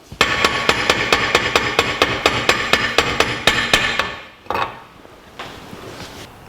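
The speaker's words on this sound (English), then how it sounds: "Now I can remove the yoke, loosen the nut, and tap the yoke off." Hammer tapping the yoke off a Ford 9 inch rear axle: a fast, even run of about fifteen sharp metallic taps close by, then a pause and two or three looser clanks as the part comes free.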